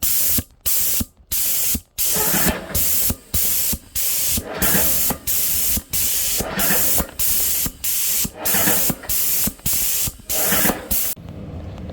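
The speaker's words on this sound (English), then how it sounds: "got the foam strapped to the tip of the sprayer" A paint sprayer with foam strapped to its tip coats radiator covers in short repeated bursts, each a loud close hiss separated by brief pauses in an uneven on-off rhythm.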